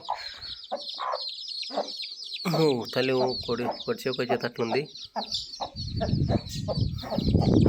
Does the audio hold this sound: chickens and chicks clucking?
yes